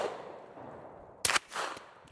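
A suppressed 510 rifle shot with full-power loads, one sharp crack followed by a second short report and a later snap, heard over a faint hiss.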